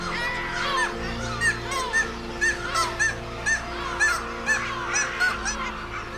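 Repeated nasal kittiwake bonding calls ring out roughly once a second over a background of distant seabird colony chatter on an island.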